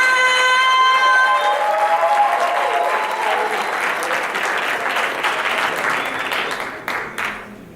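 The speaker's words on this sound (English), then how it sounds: "Go ahead and start putting your hands together." Sustained applause from a large audience, loud and dense throughout, with a few scattered cheers, gradually thinning toward the end.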